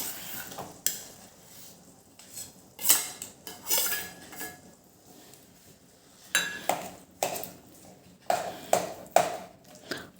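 Boiled, mashed potatoes stirred into a pan of melted jaggery and spices for a Kutchi bowl dish, with repeated clinks and scrapes of a metal spoon against the pan, bursts of stirring separated by brief quiet moments, close and fairly loud, no talking.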